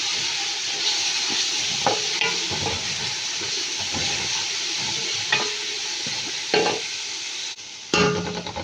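Ginger garlic paste frying in a pan, a steady hissing sizzle broken by repeated scraping stirs and spatter bursts near the end.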